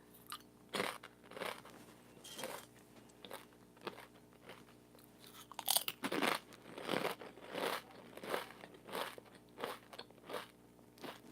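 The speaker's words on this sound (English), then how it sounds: "if you guys can hear me eating this tortilla chip" Close, crisp crunching of someone chewing a crunchy tortilla chip, irregular bites and crackles repeating at a quiet level with no talking.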